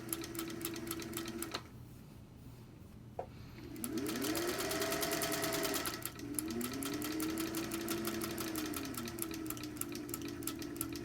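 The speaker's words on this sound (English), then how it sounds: "So do one line of stitching all the way down." A Singer sewing machine fitted with a hemmer foot stitches a hem in fast, even rhythmic needle clatter, close and steady, with a motor whine rising and falling as the speed changes and one short pause.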